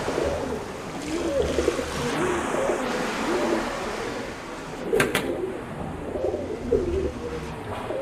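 Pigeons coo softly in low, repeated burbling calls, spread through steady outdoor ambience with a few sharp clicks.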